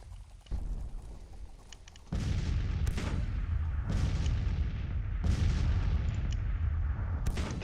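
Artillery and musket fire in Grand Tactician Civil War battle, a series of heavy booming cannon blasts roughly every second or so over a dense rumbling bed of distant gunfire.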